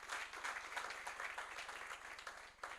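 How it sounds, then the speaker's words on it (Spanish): A church congregation applauds during a Sunday service: dense, steady clapping from many hands, fairly faint and distant, lasting the whole stretch with no speech over it. "dale un fuerte aplauso a Dios."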